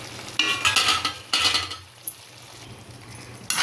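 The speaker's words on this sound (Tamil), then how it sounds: "மசாலையில் சேர்த்து நல்லா இப்படி கிண்டிடுவோம்" Sainik tuber being stirred into a masala in a pan, close scraping strokes with a soft sizzle underneath and a light clink of utensil on metal, no talk.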